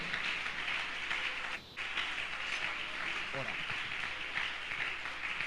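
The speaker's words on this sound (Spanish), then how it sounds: "Un aplauso, déselo fuerte al Señor en esta mañana" Congregation applauding during a church service, a dense, fairly distant patter of many hands clapping continuously, briefly dipping once, with a voice faintly speaking over it.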